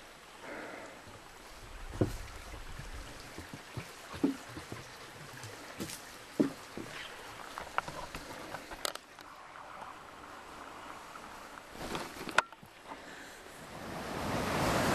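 A little stream flows under a wooden footbridge on a hiking trail near Gleasmans Falls, a soft continuous wash of moving water with faint rustles and scattered small knocks.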